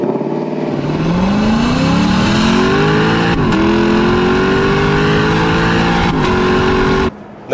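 A Lexus LC 500 convertible's 5.0-litre V8 accelerates hard through its 10-speed automatic, the roar climbing in pitch through several gear changes with brief dips between shifts, loud and close.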